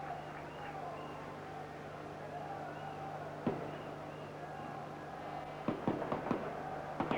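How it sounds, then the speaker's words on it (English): Firecrackers set off by Spanish supporters in a football stadium crowd, several sharp distant pops clustered near the end over a steady crowd roar and hum. "Firecrackers in the background from the Spanish supporters"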